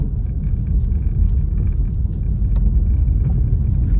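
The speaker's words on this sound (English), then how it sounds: "I'll drive slower, just like I'm driving right now" A car creeping slowly along a snowy mountain road near Big Bear Lake during a blizzard, a steady low engine and tyre rumble filling the cabin with faint occasional clicks and no talk.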